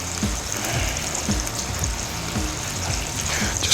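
White wine splashing into a hot pan of sizzling butter, capers, garlic and lemon for trout, a steady crackling fry with a faint trickle of liquid, close and continuous.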